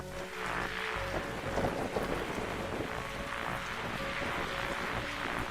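Steady, dense rainfall with faint thunder-like rumbling fills a night scene in the video game The Darkside Detective, a constant hiss of drops that stays even and moderately loud, without any voices.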